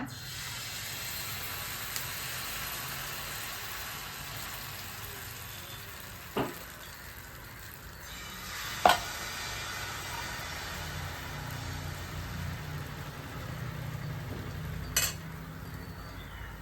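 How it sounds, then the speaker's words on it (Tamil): Sweet wheat dosa batter sizzles in ghee on a hot griddle, a steady soft hiss throughout with a few brief clicks and knocks. "இனிப்பு கோதுமை தோசை ஊற்றிக்கலாங்க"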